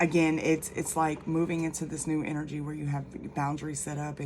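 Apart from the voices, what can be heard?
No distinct noise like a dog, phone or traffic.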